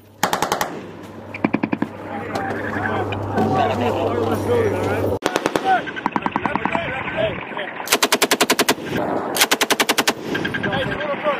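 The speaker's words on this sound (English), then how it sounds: "taking heavy machine gun fire. Heavy machine gun fire." Heavy machine gun fire during a close air support training exercise at a mock town near Yuma, Arizona: several loud bursts of rapid automatic fire, near and sharp, separated by gaps filled with engine and radio noise and babble of voices.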